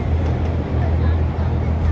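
A ferry speeds across Hong Kong harbour, its engine a steady, close, low droning rumble that holds without a break for the whole stretch.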